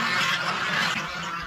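Geese on a large poultry farm honk and quack in a dense, continuous chorus at moderate distance, many birds calling over each other with no speech.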